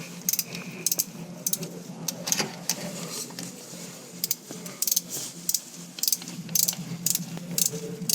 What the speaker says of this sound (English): I'm going to come back with the torque wrench and we can torque this down.